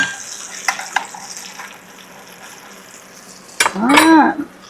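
Food dropping into melted butter in a pan for pepper steak with yellow oyster mushrooms, with light clatter and soft sizzling, then a louder burst of frying near the end.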